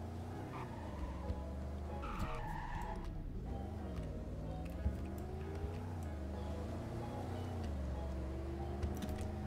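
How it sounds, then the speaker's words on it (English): A 1969 Dodge Coronet drives with a steady engine drone while its tires skid and squeal through a handbrake turn, the slide sounding continuous and fairly close rather than sharp or brief. "Okay, here we go, handbrake turn."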